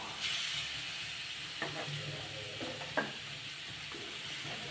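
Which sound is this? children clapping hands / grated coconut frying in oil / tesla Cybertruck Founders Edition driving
grated coconut frying in oil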